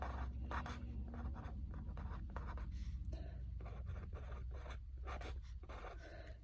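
Pencil writes an answer on paper in a math game, a close, quiet series of short scratchy strokes in a steady rhythm.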